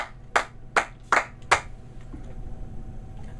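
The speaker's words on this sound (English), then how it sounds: "I want to do five claps." Five sharp hand claps in a steady rhythm, close and crisp, over a quiet room hum, followed by near silence.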